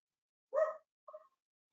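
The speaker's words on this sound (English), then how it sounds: "I don't know what they're barking at, but something is really annoying those dogs right now." Dogs bark somewhere off in the distance, one short faint bark followed by a softer second yip, with silence around them.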